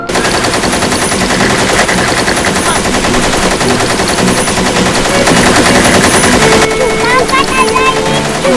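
Rapid, continuous rattling bursts of toy gun fire, loud and close, with a voice talking over them.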